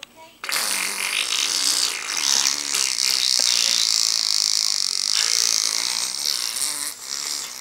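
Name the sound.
mouth imitating fart noises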